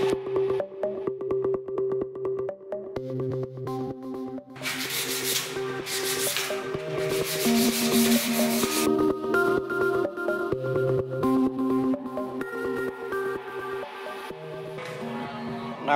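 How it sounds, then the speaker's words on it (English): Sandpaper rubs the painted body of a Toyota Supra MKIV, a steady abrasive hiss that swells loudest midway, over background music with tonal notes throughout. "The paint doesn't stick, so we have to sand all that off, make it smooth"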